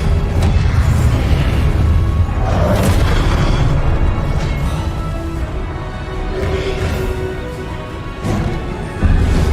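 A spell being cast in the Hogwarts Legacy video game, a loud booming magical blast with heavy rumbling low end, sustained and continuous with a few sharper bursts.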